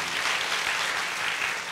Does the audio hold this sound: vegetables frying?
no